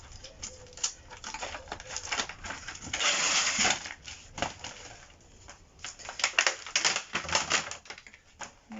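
A package is opened with two pairs of scissors, giving bursts of crinkling plastic and snipping that come in irregular rustling clusters, close and moderately loud, with no talk.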